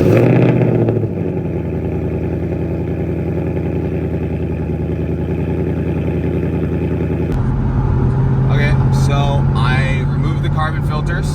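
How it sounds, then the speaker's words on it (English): A GT car's engine cold starts and settles into a steady, loud idle with a deep, even drone. Partway through, the tone drops slightly and a person begins talking over the running engine. "I'm gonna record the cold start"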